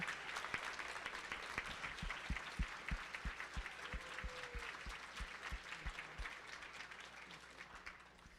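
Steady audience applause fills a gala justice fundraiser hall, many hands clapping together at an even level throughout, with a brief vocal murmur drifting in the crowd.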